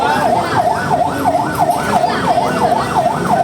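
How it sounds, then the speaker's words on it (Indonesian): Ambulance sirens wail near the site of a commuter train crash in Bekasi, a steady rising-and-falling yelp repeating about every half second, loud and close over rumbling traffic and crowd noise. "Banyak ambulan belakang."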